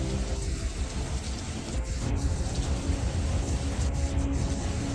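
Heavy, relentless rain of the kind that triggers deadly landslides pours down as a dense, unbroken roar, loud and steady throughout with no voices.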